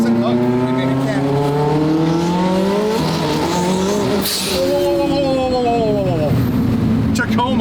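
A 1300-wheel-horsepower McLaren 720 GTR accelerates hard with its tires spinning. The loud, close engine roar climbs in pitch, dips at a gear change and climbs again, while voices are heard over it.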